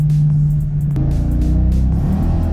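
A supercharged Ford Fox Body Notchback engine pulls hard and loud from inside the car, with a steady drone that drops briefly around a gear change and then climbs again.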